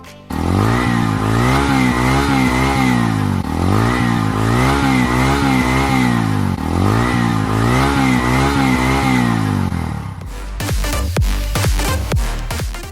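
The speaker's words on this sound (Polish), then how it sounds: "Posłuchajcie jeszcze dźwięku silnika, zobaczcie jak to moto brzmi" A showroom-bought motorcycle engine revs hard and close, rising and falling in a steady cycle about every couple of seconds, then drops to a rougher, choppier idle near the end.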